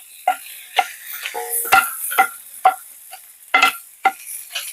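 Vegetables for a tomato and chilli chutney are stirred in a hot pan: a spatula scrapes and taps in separate strokes over a light sizzle, close by, with no voices.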